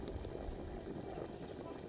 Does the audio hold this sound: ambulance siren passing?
no